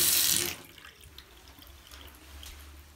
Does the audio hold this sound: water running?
yes